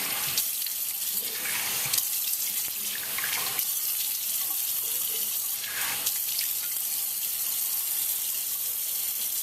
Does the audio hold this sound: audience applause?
no